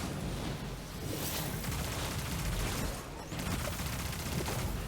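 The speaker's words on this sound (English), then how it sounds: "I got the shotgun thing, so I can switch to the machine gun now" Steady machine-gun fire in Destiny 2, a dense continuous rattle of rapid shots with brief dips, loud and close throughout.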